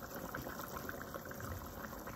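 Chicken giblet feijoada simmering in a pot gives a steady, close bubbling and soft watery churn that holds evenly throughout without pauses.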